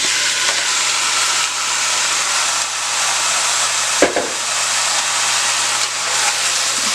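Turkey wing meat goes into a hot pot for a stew, setting off a loud, steady sizzle and hiss close by, with a brief clunk of meat or utensil partway through.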